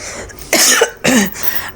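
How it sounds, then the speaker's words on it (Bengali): Two harsh, close coughs in quick succession from a person with a bad cough, loud and clear with no talking around them. "আমার প্রচণ্ড কাশি হয়েছে"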